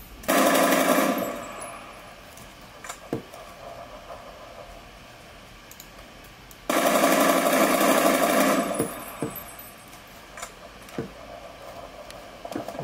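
Bursts of automatic gunfire from a video game played on a VivoBook laptop: two long loud rapid-fire volleys separated by quieter ambient game sound with occasional single shots and clicks.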